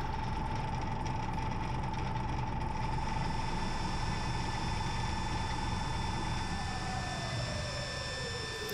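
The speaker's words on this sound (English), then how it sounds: "I am nice and safely speeding the lathe up to 1440." A wood lathe turning a bowl winds up toward 1440 rpm, giving a steady mechanical whir with a high tonal whine that holds, then slides downward near the end, faint and continuous with no talk.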